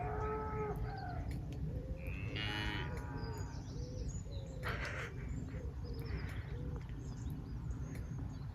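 Cattle lowing inside a stable, several moos with harmonic tones rising over a steady background of shuffling and barn noise, with faint bird calls mixed in and no voices.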